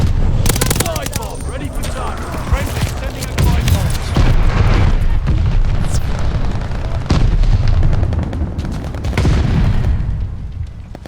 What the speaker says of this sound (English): Friendly sending a glide bomb.